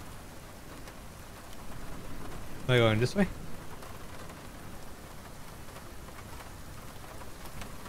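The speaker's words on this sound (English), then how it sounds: "It's rainy here." Steady rain falls throughout a horror video game set at a shack, a continuous even hiss, with a brief whispered question from a voice partway through.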